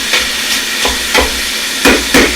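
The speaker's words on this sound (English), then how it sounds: "I'm going to turn the wattage of my induction heater up a little bit, and we'll start the browning process." Ground pork and beef browning together in a pan on an induction heater, a steady broadband sizzle with several louder scraping stir strokes at irregular intervals, close and alone.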